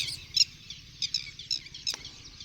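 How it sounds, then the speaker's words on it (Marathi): Small birds chirping around weaver bird nests in the morning, with thin high twittering calls coming in short bursts at a moderate distance, quiet and without talk. "पक्ष्यांचा किलबिलाट चालला आहे सगळीकडे"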